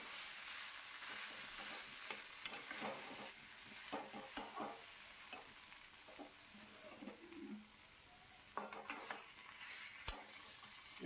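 Fried hilsa fish head stirred into taro greens cooking in a pan, giving a steady soft sizzle with scraping stir strokes and clinks, and faint bird cooing nearby.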